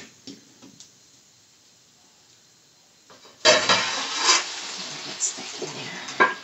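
A pasta omelet of leftover pasta frying in oil in a pan: a faint, quiet stretch and then a steady crackling sizzle that starts suddenly and carries on with small pops and scrapes.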